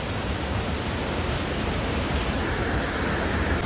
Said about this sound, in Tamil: இதாங்க வாட்டர் ஃபால்ஸ். செம்ம ஃபோர்ஸாக வருதுல்ல